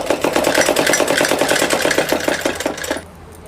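Sewing machine stitching a salwar, a rapid loud rhythmic clatter of needle strokes running steadily for about three seconds and then stopping, with no talk.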